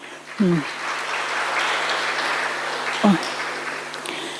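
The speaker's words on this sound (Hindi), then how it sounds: "ताली तो बजाओ" A spiritual gathering applauds rakhi decorations with steady clapping throughout, while a voice speaks briefly near the start and again near the end.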